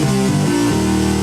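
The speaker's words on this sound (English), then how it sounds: "I have this really cool bass sound modeled after a mini moog" A thick Minimoog-style synth bass plays a few sustained notes that step between pitches, loud, close and alone with no voices.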